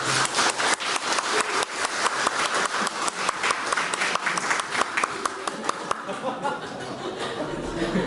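Audience in a church hall applauds a pastor after an evening talk, dense clapping sustained throughout with some scattered laughter and chatter mixed in before it thins toward the end.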